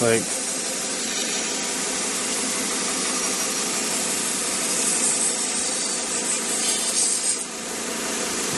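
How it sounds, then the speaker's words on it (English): A knife being sharpened on a 1x30 belt sharpener gives a steady, loud, unbroken grinding whir of abrasive belt against steel for several seconds. "I'm going to do like maybe 2 more passes and then flip it over and just do one more on the other side to break the burr"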